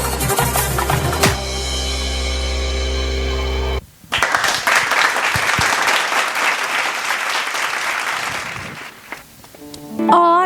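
Loud, steady applause from a school audience at a math fiesta fills the hall after a dance performance, rising abruptly as a sustained musical tone cuts off, then tapering as a voice starts at the end.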